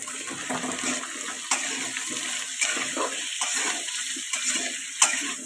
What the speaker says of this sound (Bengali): এবার আমি একটু হলুদ আর নুন দেব, হলুদ আর নুন দিয়ে আলুটা ভালো করে ভাজবো।